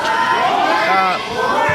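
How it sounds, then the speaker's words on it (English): A crowd at a fight event chanting for fighter Kris Kage, a loud, continuous roar of many voices with rising and falling tones, dense and close throughout. "They're chanting for Kris Kage. They're going wild here for absolute Kris Kage."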